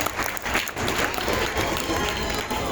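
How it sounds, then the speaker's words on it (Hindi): Sustained applause from a school audience at a Republic Day celebration, a dense steady wash of many hands clapping that holds for the whole stretch with a faint voice underneath. "जोरदार तालियों के साथ स्वागत किया जाए।"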